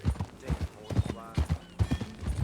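Horse hooves clip-clopping in Red Dead Redemption 2, a close, rhythmic series of thudding steps at a steady walking pace, with a voice briefly heard among them.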